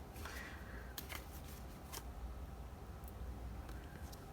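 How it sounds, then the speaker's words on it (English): Tarot cards are cut and shuffled by hand, with soft papery slides and a few sharp flicks and taps close up, over a low steady room hum. "Cut the deck."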